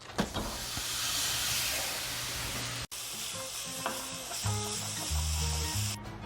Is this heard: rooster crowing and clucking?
no